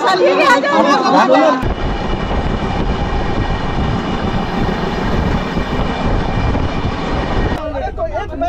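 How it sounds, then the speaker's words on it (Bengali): Inside the Howrah–Amritsar Express as it picks up speed, a loud, steady rumble of the running train fills the middle stretch, with people talking at the start and end. "মোটামুটি ট্রেন স্পিড করেছে"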